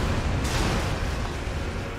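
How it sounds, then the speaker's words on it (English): Booming explosions in the Elden Ring video game during the General Radahn fight, a dense, continuous rumble with a sharp burst near the start. "Explosions."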